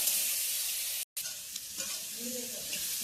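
Ingredients for a Nellore cucumber chutney frying in a pan, a bright continuous sizzle with stirring scrapes throughout and a brief dropout partway.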